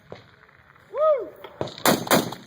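Gunfire from a machine gun at an outdoor shoot, a short burst of sharp reports at moderate distance following a brief whooping voice.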